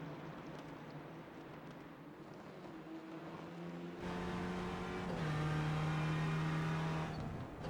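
Clio Cup race cars lap Imola in a racing video game, a steady engine drone building as another car closes in, with a sustained higher-pitched whine that climbs and holds loudly near the end.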